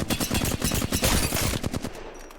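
Rapid automatic fire from the Flatline rifle in Apex Legends, Season 13, a loud, dense burst of close gunshots lasting about two seconds before trailing off.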